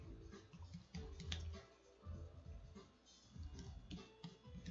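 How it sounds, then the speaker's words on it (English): Typing on a computer keyboard while entering a service account setting, a quick run of faint, irregular key clicks over low room noise. "I'm going to enter if I can type"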